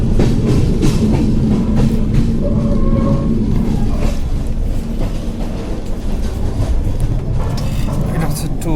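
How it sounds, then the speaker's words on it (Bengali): From inside a 2AC sleeper coach of an Indian train, another train passes on the adjacent track: a loud, steady rumbling roar of rolling wheels fills the cabin, with people talking over it. "ওই দেখেন ওই সাইডে আরেকটা ট্রেন যাচ্ছে।"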